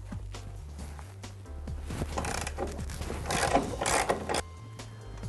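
A ratchet wrench loosens the nut on a Honda CBR250R rear axle, giving quick runs of close clicking pawl ratchet sounds under a low background hum.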